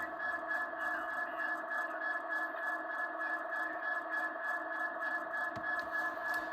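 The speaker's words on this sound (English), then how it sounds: "F7 dims the main headlight, but also will activate cab chatter" Cab radio chatter from a Tsunami sound decoder in an Athearn Genesis SD59MX Union Pacific model locomotive: a steady, quiet, band-limited radio hiss with faint, muffled voice-like murmurs running throughout.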